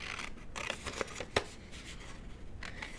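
Scissors snip through paper by hand in short, close, crisp cuts with soft rustling between them, a few distinct sharp snips standing out.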